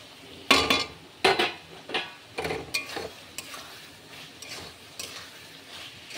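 Fried potatoes, stems and pointed gourd tipped into frying spice masala for a poppy seed curry: several sharp clattering knocks of a spoon against the pan, then softer stirring scrapes over a faint sizzle.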